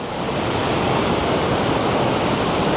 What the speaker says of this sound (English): Look at the waterfalls from this side.